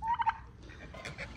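A turkey gives a quick rattling gobble, loud and close at the start, followed by quieter rustling and outdoor background noise, with no talk.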